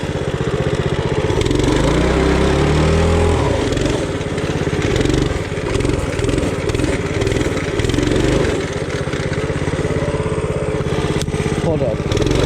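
Small mini bike engine buzzing steadily as it rides through mud, loud and close throughout, with rising and falling revs and talk in the background.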